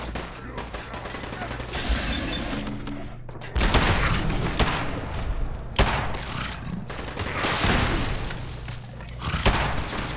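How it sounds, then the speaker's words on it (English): A grenade explosion in a Fallout game lands as a loud boom inside a stretch of heavy gunfire, with bursts of shots and thuds continuing around it. "I'm just gonna throw a grenade because they're not coming."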